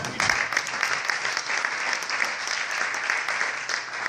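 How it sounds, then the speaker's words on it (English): Steady, full audience applause at a regional planning council presentation, many hands clapping continuously and evenly throughout, with no voices standing out. "I want us all to applaud for the city of Dublin"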